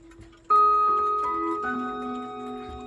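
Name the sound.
chime rods ringing in a mounted chime block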